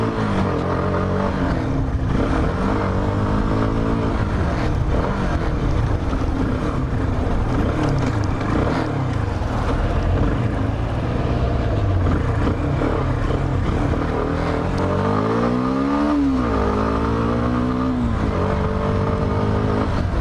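A CFMOTO 150 NK motorcycle with a 150cc engine idles and revs steadily through its exhaust, with a rising and falling rev sweep near the end, loud and close with no talk.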